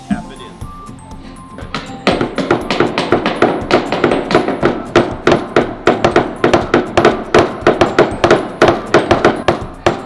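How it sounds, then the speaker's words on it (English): A hammer taps a wooden perch into the glued hole of a construction bird house, in a rapid, steady series of close, sharp knocks that grows more regular after the first couple of seconds. "take your hammer and just tap it in"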